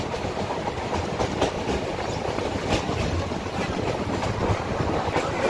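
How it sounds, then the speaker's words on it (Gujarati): A train running through dense Gir forest between Junagadh and Sasan Gir, heard close from on board as a steady rumble with rhythmic clickety-clack of wheels over rail joints. "બે બાજુ ગીચ જંગલમાંથી ટ્રેન પસાર થાય છે."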